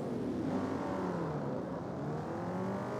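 Loud, steady engine drone from a car close behind in the CarX Street racing game, a continuous rumble with shifting pitch that holds for the whole stretch without any talk.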